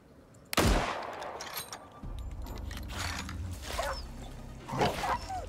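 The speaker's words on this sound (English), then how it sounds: "I think this time I'm gonna use the rifle." A single sharp rifle shot cracks out in the Icarus video game, followed by a low rumbling tail and faint clicking mechanical sounds.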